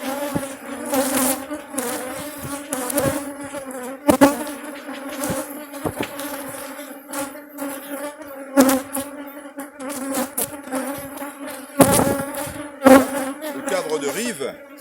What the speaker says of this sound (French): Et il paraît qu'elle est agressive, cette abeille.